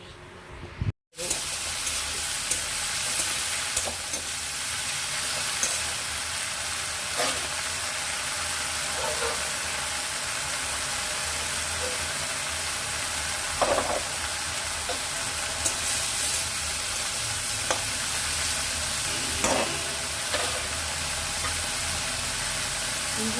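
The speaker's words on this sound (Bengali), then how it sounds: "চিংড়ি মাছগুলো এক মিনিটের মতো নাড়াচাড়া করে নেব বেশি ভাজবার প্রয়োজন নেই" Shrimp stir-fried in a pan, a continuous sizzle with occasional scraping clicks of stirring, steady and close for over twenty seconds.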